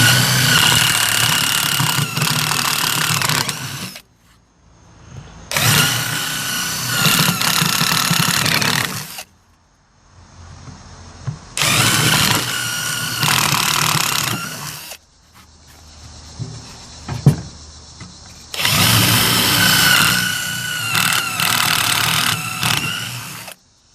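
A power drill bores holes into scrap wood for a carpenter bee trap, running in four loud sustained bursts of several seconds each, separated by brief pauses with faint whirring.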